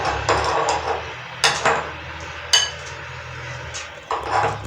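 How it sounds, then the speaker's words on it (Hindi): Ghee being worked into maida with milk for gulab jamun dough, utensils clinking and scraping against a metal bowl in a few sharp knocks amid steady rustling, close and fairly loud. "घी ऐड करेंगे, इन्हें मिक्स करेंगे आपस में अच्छी तरह।"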